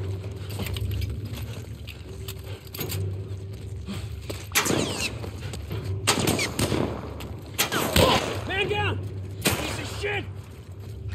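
Gunfire from the video game The Last of Us Part 1 cracks out in several sharp bursts over a low ambient drone, with other game sounds between the shots.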